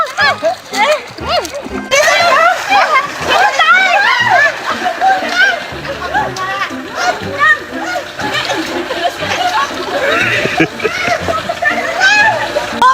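Water splashes into an outdoor swimming pool at the foot of a slide, bursts of splashing and sloshing running through the whole stretch while children shout and chatter excitedly over it.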